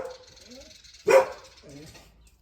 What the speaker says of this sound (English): She's even got her barking collar on it that like vibrates like a mobile phone, and she still yaps